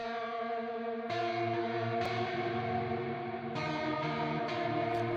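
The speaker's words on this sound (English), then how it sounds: "So it's just ultra clean, going through some tape echo and some reverb" Clean electric guitar chords ring out, each strum trailing into repeating tape-style echoes and a wash of reverb, layered and spacious, with no voices.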